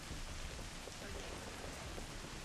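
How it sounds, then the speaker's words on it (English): Rain falling in the video game Kena: Bridge of Spirits, a steady, even hiss of downpour with no breaks, moderately quiet and heard alone. "Why is it raining?"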